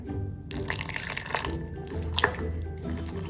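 Water runs and splashes as it is poured into fish pakora batter in a home kitchen, a steady trickle broken by brief pauses and light clinks, with no voices.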